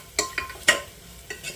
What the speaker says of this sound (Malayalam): എന്നിട്ട് പൊടികളുടെ പച്ചമണം ഒന്ന് മാറുന്നത് വരെ നന്നായിട്ടൊന്ന് ഇളക്കി കൊടുക്കാം